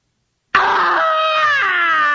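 Scrooge lets out a sudden, loud, sustained scream of horror after seeing his own corpse. The cry is close and alone, and its pitch bends slightly as it is held.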